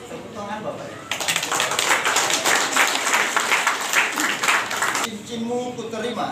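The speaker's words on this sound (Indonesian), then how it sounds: "Tepuk tangan Bapak ya." Guests at a wedding ring exchange burst into dense, sustained applause for about four seconds, with a voice speaking before and after the clapping.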